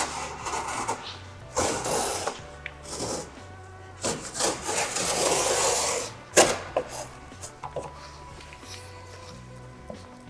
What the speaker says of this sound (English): So we're going to carefully cut down the corners here.